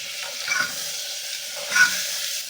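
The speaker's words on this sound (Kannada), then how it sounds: "ಚೆನ್ನಾಗಿ ನೀರಿಲ್ಲದೆ ಫ್ರೈ ಮಾಡ್ಕೊಳ್ಳೋಣ" Mutton liver chops fried dry in a pan give a quiet, continuous sizzle, with two brief bursts of stirring or scraping as the pieces are turned, nobody speaking.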